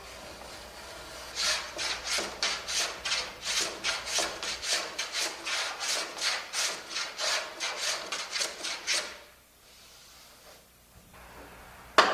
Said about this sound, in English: using a guide stick, cut the bevel on the upper edge of the garbard